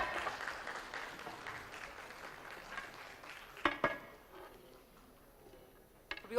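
Ceremony audience applause at an exhibition conclave, faint and fading out over several seconds, followed by a few sharp knocks and clicks near the end.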